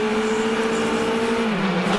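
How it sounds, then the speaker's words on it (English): An IndyCar pace car circling the Baltimore street circuit before the race, its engine droning steadily at close range with a sustained tone that dips slightly in pitch near the end, over constant crowd and track ambience. "Al Unser Jr. is driving Vicky around this racetrack here in Baltimore, getting the set and pacing the field for today's race"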